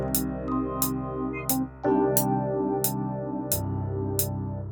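A melody played on a Yamaha S80 synthesizer, using sustained tones layered with octave notes, alone, with a steady pulse of bright accents roughly every 0.7 seconds and a deeper bass shift partway through.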